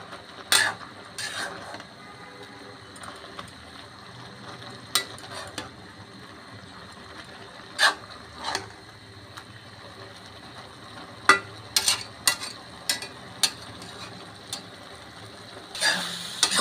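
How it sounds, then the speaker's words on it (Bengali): Spinach cooking down with small shrimp and chopped potato in a kadai, stirred steadily: sparse, spaced spatula scrapes and knocks against the pan over a quiet, low sizzle. "দেখুন, আমি ভালোভাবে এটা নেড়ে চেড়ে দিচ্ছি"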